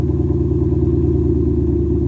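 A Ford Mustang GT S550 V8 idles with a deep, steady exhaust rumble, loud and close, with an even low throb and no talking over it.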